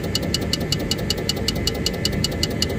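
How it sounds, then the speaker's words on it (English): Rapid, regular ticking from the burst PCB area of a Daikin VRV3 inverter unit with a grounded compressor, steady clicks repeating about five times a second over a loud continuous machine hum. "here the PCB burst area, the sound tick tick tick tick tick tick tick tick tick."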